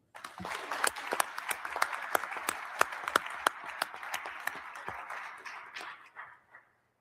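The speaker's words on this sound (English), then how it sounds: "So please welcome them with your applause" Applause at the Capitol welcoming visitors, with sharp separate claps from a modest crowd, steady at first and then thinning and fading out toward the end.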